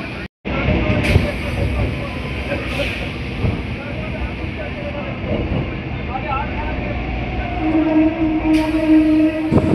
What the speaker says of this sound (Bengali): আমাদের ট্রেন ঢুকছে এবার বাঘাযতীন স্টেশন